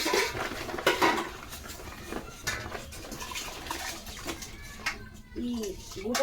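Washed rice goes into a cooking pot that already holds water, with clattering pot sounds, splashing and trickling water, and a voice speaking over it.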